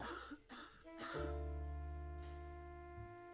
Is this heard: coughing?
yes